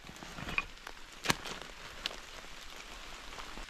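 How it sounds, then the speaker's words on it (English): Rain falling in a forest, a soft continuous patter of drops on leaves and ground with a few sharper close taps and snaps standing out, no voices. "The rain's not pulling up"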